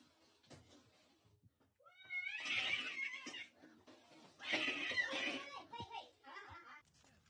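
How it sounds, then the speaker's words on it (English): A big donkey brays in two loud, harsh honking bursts a second or so apart, close by, with quieter scattered sounds between them. "Just a big old donkey."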